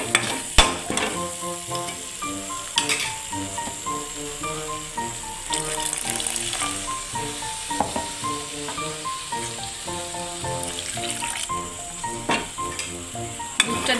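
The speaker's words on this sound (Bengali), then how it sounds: "দুধটা দিয়ে কিন্তু গ্যাসটা কমিয়েই রাখতে হবে, দিয়ে খুব ভালো করে নাড়াচাড়া করে দিলে এটা হয়ে যাবে" Milk being stirred into an egg malai curry masala in a pan over low gas, a steady sizzle with repeated scraping stir strokes throughout, close and moderately loud, no voices.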